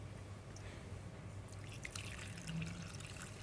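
Hot water dripping and trickling during dental denture impression work, faint and close, with quiet small splashes becoming slightly busier toward the end, no talking.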